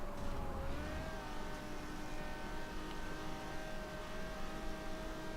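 A Ferrari race car engine in Forza Motorsport 7 holds a steady, droning whine with layered tones that shift slightly in pitch. It sounds continuous and fairly close throughout, with no talking.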